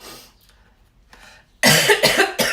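A couple of quiet breaths, then a burst of loud, close coughing from someone with a cold, two or three hacking coughs in quick succession.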